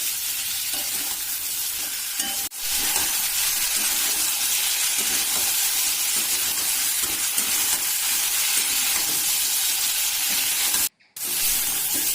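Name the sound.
sautéing raw banana and potato with masala on low heat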